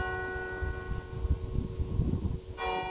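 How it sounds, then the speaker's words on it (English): Church bells ring out at midday, a steady peal of sustained tolling tones over low rumbling background noise, with a fresh strike near the end. "the bells are ringing."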